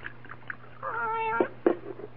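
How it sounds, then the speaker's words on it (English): A cat sitting on a saloon bar meows in a long, drawn-out wail followed by two short, sharp cries, fairly close, against a quiet room with a low steady hum. "Hush up, cat."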